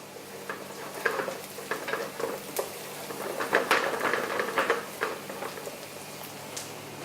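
Basic English onions frying in a pan with a little salt in a restaurant kitchen, a steady moderate sizzle broken by irregular clinks and scrapes of stirring, close by with no talking.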